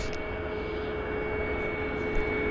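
An Air Canada heavy jet on approach at Vancouver airport gives a steady, broad roar that holds evenly throughout, with faint tonal whines above it and no talking.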